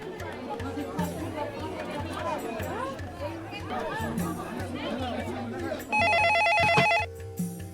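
A telephone rings in a busy shop, one shrill electronic burst of about a second standing out over crowd chatter and nearby talking near the end.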